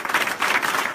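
A church congregation applauding to acclaim the Lord, a steady wash of many hands clapping at once, lively and sustained through the whole moment with no clear voices over it.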